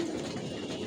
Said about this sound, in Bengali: এত হুড়াহুড়ি পারাপারি করতেছে কবুতরগুলা